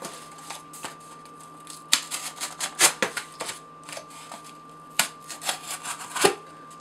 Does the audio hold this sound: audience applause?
no